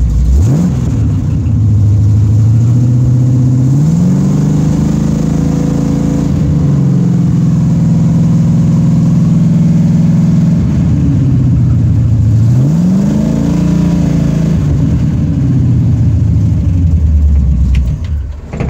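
Loud Pontiac Firebird V8 that is losing oil pressure, running in neutral. It idles with a steady rumble and rises twice into revving before settling back down, close and continuous.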